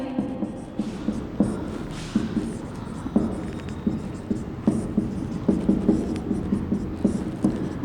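A pen scratches out words in thick strokes on paper, giving short, close scraping strokes in an uneven but steady rhythm over a low background hum.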